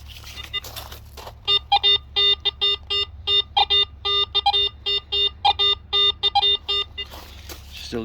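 Garrett AT Pro metal detector beeping over a buried target, a rapid series of evenly spaced electronic tones in short bursts, loud and close against a steady low hum.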